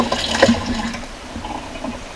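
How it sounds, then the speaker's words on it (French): Cold tap water splashing and running over sliced leek, a short wet splatter that peaks early and then trails into a softer, steady trickle. "Et après, on le mouille à l'eau. À l'eau froide bien sûr, toujours à l'eau froide."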